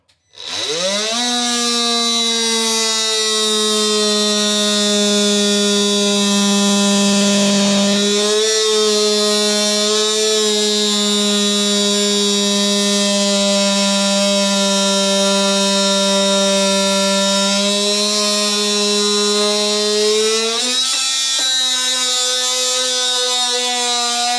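A power cutting tool grinds studs and ridges off the sole of a lightweight soccer boot, a loud, steady high-pitched whine held continuously for about twenty seconds with a brief dip midway and a pitch shift near the end.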